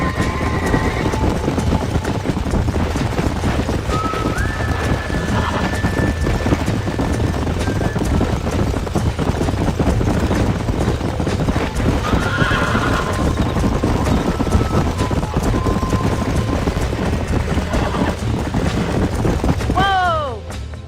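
Horses whinny and hooves clop in Red Dead Redemption through a dense, steady wash of game-world noise, with a sharp rising neigh just before the end.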